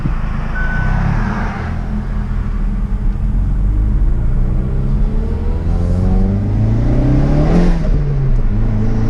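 A Hyundai Veloster N fitted with an SXTH Element intake revs up and settles in a steady low rumble, with a few rising engine sweeps heard from inside the car, loud and continuous without talk.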